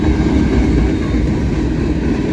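A CSX mixed freight train with many hopper cars, led by a YN2-painted Dash 8 locomotive, rolls past close by, a loud, steady rumble of wheels and cars that never lets up.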